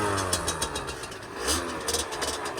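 A warmed-up Beta RR50 50cc enduro motorcycle revs close by as it sets off, a buzzy, raspy two-stroke drone with quick rising and falling throttle blips over a steady low rumble.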